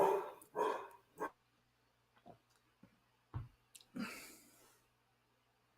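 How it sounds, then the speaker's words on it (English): A dog barks a few times close by in short, sharp bursts, with a couple of softer clicks and whimpering sounds in the gaps between them, and no talk. "My dog's barking."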